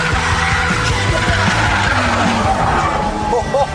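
A Mugen Civic slides sideways with a loud, sustained tire skid under a strained, close engine that holds steady for a few seconds.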